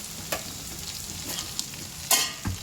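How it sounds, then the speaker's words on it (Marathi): Potatoes, peanuts and tomatoes cook in a home kitchen pan with a low, steady sizzle, broken by a few sharp clinks and scrapes of a spoon stirring, heard alone without talk. "आलू शेंगदाणे टमाटर शिजत आहे"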